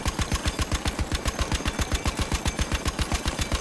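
Sustained automatic gunfire in Battlefield 1, a rapid, steady stream of loud, closely spaced shots at an even rhythm, continuing without pause.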